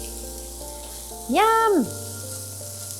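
Bacon sizzles in a pan with cooked-down onions and Brussels sprouts, a steady close crackling hiss throughout, briefly overlaid by a short, bright exclaimed voice.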